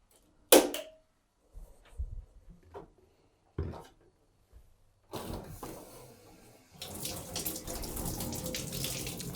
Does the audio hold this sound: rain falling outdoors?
no